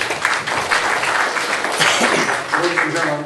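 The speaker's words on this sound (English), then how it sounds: "we're going to ask that you hold all applause until the very end of each section of the debates" An audience at a League of Women Voters general election debate forum in Putnam County applauds: dense, steady clapping from a room of people, fairly close and sustained for a few seconds.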